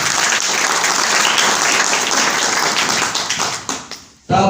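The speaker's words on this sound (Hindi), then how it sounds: "इनके लिए जोरदार ताली होनी चाहिए।" An audience at a Hindi marketing presentation in India claps loudly and densely. The applause fades briefly near the end, then swells again.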